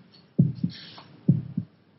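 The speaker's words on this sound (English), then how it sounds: "Can you hear your heart beating?" Two pairs of low, soft thumps in a lub-dub pattern, evenly spaced like a slow heartbeat, heard close with a faint hiss between them.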